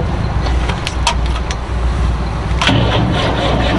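A cold Ford tractor engine cranks at a farm equipment auction, with a steady churning starter drone and a few sharp clicks, loud and close, without catching.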